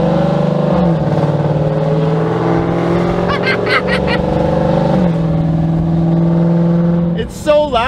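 A car with loud long tube headers exhaust drones and revs in steady sustained tones with pitch shifts, close and loud, ending in a sharp rising rev.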